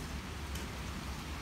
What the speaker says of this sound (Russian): Да, начинается дождь.